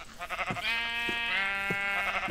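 A sheep in the Minecraft video game bleats in a couple of wavering, nasal calls, close and fairly quiet, with no voices over it.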